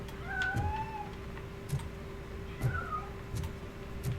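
A cat meows in the video game RoboCop Rogue City, with two short, rising mews a couple of seconds apart, fairly close, over a low steady hum and faint scattered ticks.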